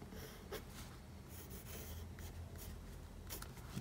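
A pen draws the rim of a Spider-Man emoji on paper, a soft scratchy scribbling of short strokes close up, steady and quiet with no talk.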